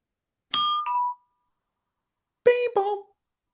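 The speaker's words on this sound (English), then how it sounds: "That means doorbell. there's someone at the door." A two-tone doorbell chime rings twice, clear and close, with a long silent gap between the rings.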